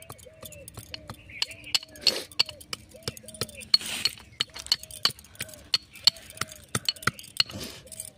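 A metal spoon crushes jujube fruits in a bowl, giving repeated sharp clinks and short scrapes at an irregular rhythm, close and fairly quiet.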